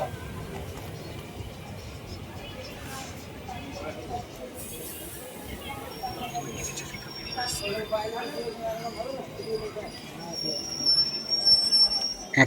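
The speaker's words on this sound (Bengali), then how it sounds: "সাঁইথিয়া জংশনে ট্রেনটা তার নির্ধারিত সময় থেকে 10 মিনিট লেটে পৌঁছেছে, আর 4 নম্বর প্ল্যাটফর্মে আমাদের এই ট্রেন এসে পৌঁছেছে" A train pulling into a platform at Sainthia Junction, a low rolling rumble with faint squeals that build louder toward the end beneath people talking nearby.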